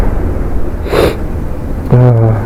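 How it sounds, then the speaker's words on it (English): One sharp nasal sniff up close from a rider with a cold on a 2010 Yamaha YBR 125 helmet-cam ride, followed by a brief voiced breath or murmur. "excuse the sniffs and sniffles"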